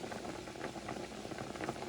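Pot of water boiling for Lebanese moghrabieh couscous with chickpeas, a soft continuous bubbling and gurgling, quiet and steady with no talk.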